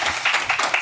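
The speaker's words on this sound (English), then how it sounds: "Let's give her a round of applause" An audience gives a guest a short burst of applause, dense overlapping claps at moderate volume lasting under a second.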